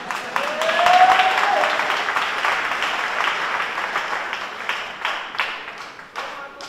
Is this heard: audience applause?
yes